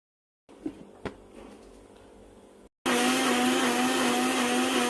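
A kitchen blender grinds washed mint, coriander, hot chilies, ginger and garlic into a paste for panipuri, a loud steady motor whine that starts abruptly after a few quieter clunks and runs on alone.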